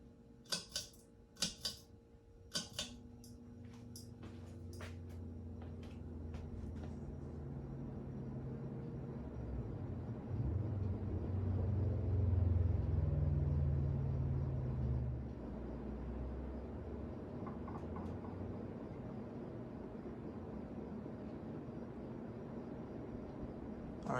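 A Fasco Charleston ceiling fan runs on high speed with slightly cupped blades, giving a steady whooshing rumble that swells and then holds. A quick burst of sharp clicks comes first.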